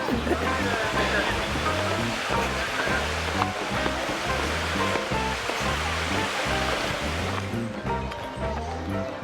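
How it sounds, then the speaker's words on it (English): Creek water flowing over rocks along a roadside detour near the Natural Bridge in Virginia, a continuous close rushing and burbling, with heavy low thumping, likely footsteps or handling noise, running through it. "We have a nice little creek here that we're following also."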